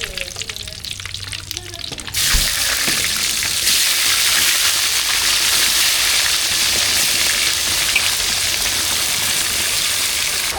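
Mustard seeds dropped into hot oil while cooking a raw banana fry: quieter kitchen sounds give way to a sudden loud, dense crackling and spluttering that continues steadily, close to the pan.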